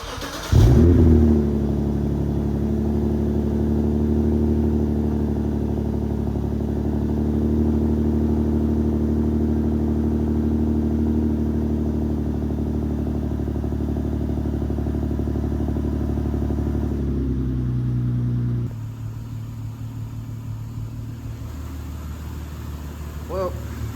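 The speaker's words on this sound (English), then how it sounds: "I'm gonna go ahead and give you guys a start." A Lexus IS350 engine cranks and catches, then settles into a steady, rumbling idle that drops slightly in pitch near the end.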